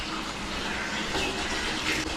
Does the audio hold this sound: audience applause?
no